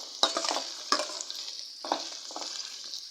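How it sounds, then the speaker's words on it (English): Green pepper and spring onion for Nigerian fried rice are stirred in a hot pan, giving a few soft scraping strokes over a faint, steady sizzle that stays quiet throughout. "Add your green pepper and stir for like 30 seconds."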